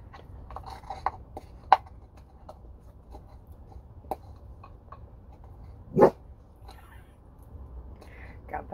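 A dog indoors lets out a few short, scattered barks, one sharper and louder than the rest, with a person talking quietly in between over a low background hum.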